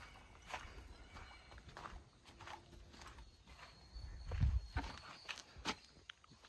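A horse walks during its daily routine, faint hoof clip-clops scattered over a quiet, noisy outdoor background, with a few heavier thuds near the end.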